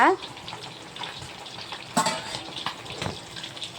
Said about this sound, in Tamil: இவங்க எல்லாம் நல்லா எண்ணெயிலே வெந்து வரட்டுங்க.